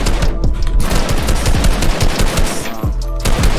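Dense, rapid automatic gunfire in a video game arena battle, loud continuous bursts of overlapping shots throughout with no clear gaps.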